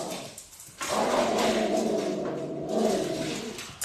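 A dog growls low and steadily in the background of a room, a continuous rumbling roar that swells and holds for a few seconds.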